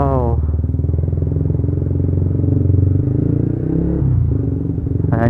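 Modified Yamaha Vixion 175 cc motorcycle engine pulling hard in first gear while riding, a loud close rumbling drone with a rising then steady pitch, and a voice speaking over it.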